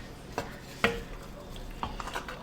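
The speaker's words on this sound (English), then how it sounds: "Let's give our chili a stir and see how we're looking." A thick, hearty meatless chili stirred in a pot after simmering, with a few distinct spoon knocks and scrapes against the pot's side, close and fairly clear over a quiet background.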